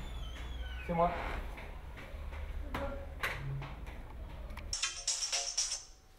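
A telephone rings in a traditional riad guesthouse in Marrakech with a repeating electronic tone near the end, after a stretch of background noise and faint voices.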